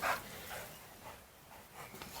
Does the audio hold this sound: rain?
no